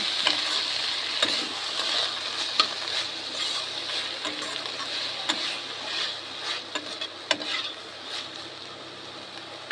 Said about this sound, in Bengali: যতক্ষণ না গাজর আর বরবটি ভালো ভাজা ভাজা হয় ততক্ষণ ভালো করে ভেজে নেব